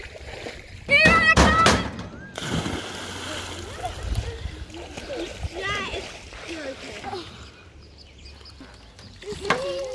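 Someone splashes into a lake on a hot, humid day: a few loud, close splashes of water, followed by quieter sloshing, while people talk nearby and a bird calls faintly.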